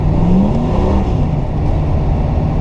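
A car engine revs hard under throttle with wheel spin, a loud, close, continuous low roar with a rising whine in the first second before settling into a steady rumble.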